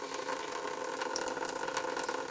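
Coolant water drains out of the bottom of a Toyota Tarago engine during a radiator flush, making a steady, continuous splashing trickle that runs alone and evenly throughout.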